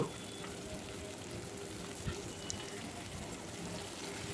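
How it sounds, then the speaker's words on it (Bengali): Chopped onions fry in vegetable oil in a kadai, giving a steady, fairly loud hiss of sizzling that runs unbroken throughout with a few faint knocks. "এই তেলে আমি পেঁয়াজ কুচিগুলো দিয়ে দেব"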